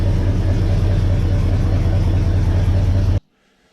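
An International 1210 pickup engine runs at a steady idle close to the microphone, with a loud, even low rumble that cuts off abruptly near the end, leaving near silence.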